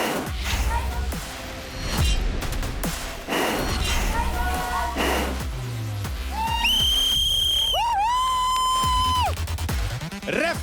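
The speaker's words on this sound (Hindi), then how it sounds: "रेफरी ने मार दिया है सीटी" A referee blows a whistle at a tug-of-war match in a competition show. Several sharp, loud blasts ring out near the end, after shouting and talk over crowd noise.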